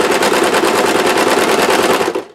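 Sewing machine stitching quilt binding from corner to corner, a steady rapid loud whir of needle strokes running continuously for about two seconds before stopping abruptly.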